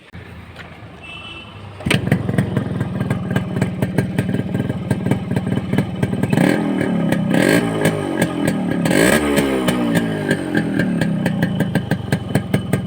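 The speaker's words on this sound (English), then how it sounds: "Now we'll start the bike." A Yamaha RX 100 motorcycle, just fitted with a new cylinder head gasket, kicks into life after a quieter stretch, then idles loudly and revs up and down several times, its engine close and rattling.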